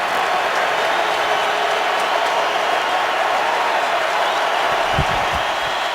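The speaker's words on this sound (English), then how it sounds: "You can hear the crowd getting loud." Broad, steady roar of a football stadium crowd at a Saints at Colts NFL game, a dense wash of voices swelling under a third-down play, with a brief low thump near the end.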